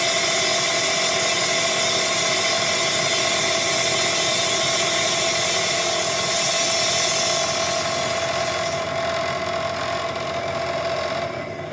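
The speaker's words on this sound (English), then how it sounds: "Cutting or trimming excess rock from near the fossil makes further preparation possible." A steady, loud mechanical whine of a cutting tool trimming excess rock away from a fossil, running continuously and tapering slightly toward the end.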